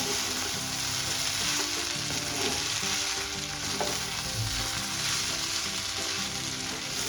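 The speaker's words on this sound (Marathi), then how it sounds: "आता आपण थोडंसं मीठ टाकून घेऊया. आता आपण पुन्हा एकदा व्यवस्थित परतून घेऊया." Tomato rice mixture with salt being stir-fried in a pan, a steady loud sizzle under a continuous scraping and stirring rhythm with no voices.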